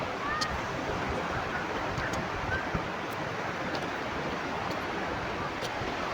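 Sea waves wash steadily onto a beach in a continuous, fairly loud roar, mixed with wind buffeting the microphone, during an outdoor seaside meal.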